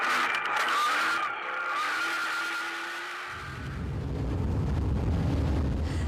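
A Castrol Toyota Hilux rally car and a Century CR3 race along a 2013 Nkomazi 400 rally route, with a rising high engine whine giving way to a loud, rough, close roar as one passes.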